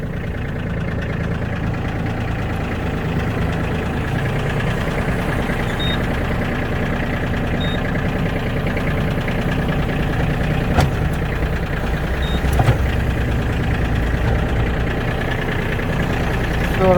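An ISEKI GEAS33 Japanese mini tractor engine runs at a steady idle, close and loud, while its hydraulic tilt operates, adding a couple of brief clicks near the end over the constant rumble.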